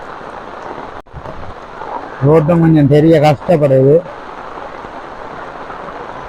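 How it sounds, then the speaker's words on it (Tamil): Heavy rain keeps falling over flooded roads in Jaffna, a steady hiss running throughout while someone talks over it in the middle. "மழை பொழிஞ்சோண்டு தான் இருக்குது"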